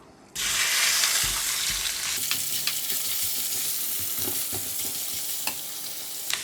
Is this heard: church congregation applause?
no